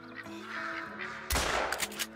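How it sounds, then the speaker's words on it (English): A duck calls while circling in on a New England mountain hunt, harsh raspy quacks against background noise, followed by a sudden loud blast and further bursts. "one more duck circling here"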